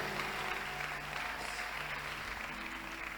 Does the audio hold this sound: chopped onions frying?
no